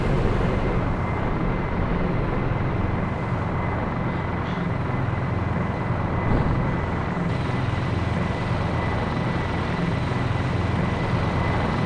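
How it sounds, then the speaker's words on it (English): A military helicopter flying in during the video game ArmA 2 gives a steady, unbroken rotor and engine drone at moderate loudness, never rising or fading over the whole stretch. "Okay, the chopper is inbound."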